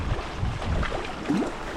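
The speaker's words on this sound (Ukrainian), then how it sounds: "вітер прям дуже конкретний" Strong wind buffets the microphone in rough, uneven gusts on a perch fishing outing, a low roaring rush with no voices.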